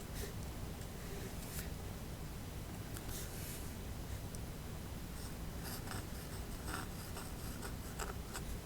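Steel dip pen nib scratching across paper during calligraphy or cursive practice, a faint, continuous close-up scraping with small bursts of stroke noise and no talking.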